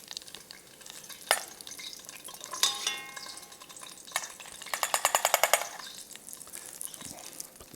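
Half a cup of hot oil for Nashville hot chicken sizzles and crackles close by while being whisked, with bursts of rapid rhythmic whisk strokes against the bowl.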